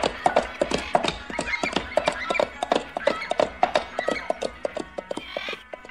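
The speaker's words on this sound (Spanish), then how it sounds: "De pronto, se aproxima un jinete en un caballo amarillo." Radio-drama effect of a rider on horseback approaching: close, rhythmic clip-clop of hooves beats steadily throughout, with no talking over it.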